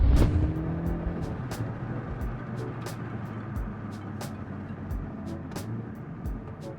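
A 2024 Hyundai Elantra N drives on the road with a steady engine drone and road noise from close range, easing slightly in level and continuing without a break.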